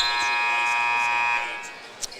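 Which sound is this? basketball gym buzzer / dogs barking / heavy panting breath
basketball gym buzzer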